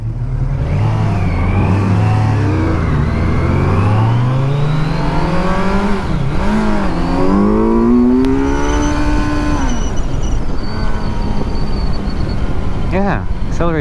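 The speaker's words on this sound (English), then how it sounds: "Yeah, accelerates nicely. Sounds great when it's higher up in the rev range." A 2019 Kawasaki Z900 motorcycle accelerates hard, its engine note climbing steadily through the gears with rising pitch and brief dips at shifts, loud and close throughout.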